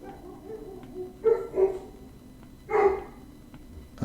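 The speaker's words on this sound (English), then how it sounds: "Again, my apologies for the dogs." A dog barks indoors, three short, fairly faint barks spaced over a few seconds against a quiet room background.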